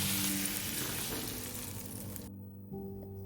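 Shrimp fry in a single layer in a pan with oil, making a soft, steady sizzle that fades and cuts out briefly before faint kitchen clatter resumes.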